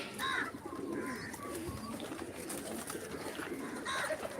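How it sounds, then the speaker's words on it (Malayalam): Soft pigeon cooing repeats a few times in the open, with other faint bird chirps and outdoor background noise around it. "ഇതാണ് നമ്മുടെ കന്യസ്ത്രീ പ്രാവ്"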